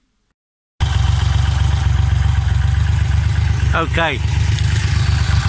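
A motorcycle engine fitted with Amal Concentric MKI carburettors ticks over at a steady, even idle close by, with a brief voice speaking over it partway through.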